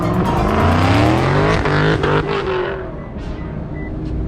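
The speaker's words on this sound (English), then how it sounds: "Got all the cars heading out." Loud roaring car engines rev and rush past as cars leave a car show, with tires squealing; the roar gradually fades as the vehicles pull away into the distance.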